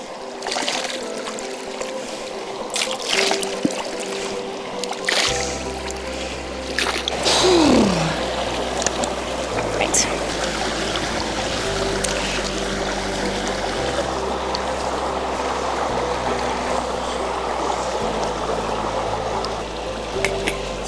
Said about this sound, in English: Washing your hair in a river